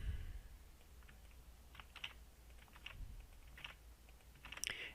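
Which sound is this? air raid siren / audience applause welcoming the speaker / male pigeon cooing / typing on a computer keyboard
typing on a computer keyboard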